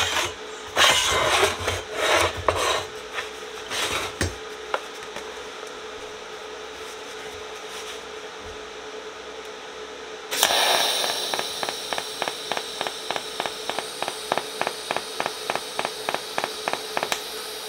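TIG welder running on a pulse setting in a shed, a steady faint hiss that turns into a regular rapid ticking pulse in the second half, preceded by a few clanks and scrapes, with no talk.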